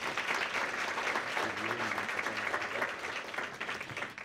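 An audience at a county farm forum session claps for several seconds, steady dense applause with a faint voice briefly audible beneath it.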